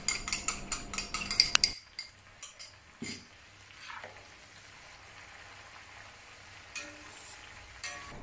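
Chili, shallots and garlic fry in oil for XO sauce. A busy sizzle with clinking utensils opens the clip, then it settles into a softer, steady frying hiss with occasional taps.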